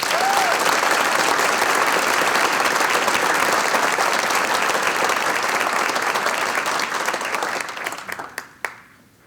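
Sustained, dense audience applause at the 45th annual Abe Lincoln Awards in Indianapolis, honouring a Beech Grove High School student; loud and steady for about eight seconds, then thinning into a few scattered claps before stopping.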